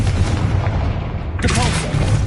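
Confringo blasting spell going off in the Hogwarts Legacy video game: a deep, booming explosive burst over a steady rumbling game ambience, loud and close, with a bright crackling tail.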